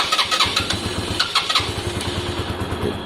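A Lexmoto Valiant motorcycle engine being revived runs unevenly and struggles to take revs, sputtering close by in loud irregular bursts that settle into a rough, lumpy idle.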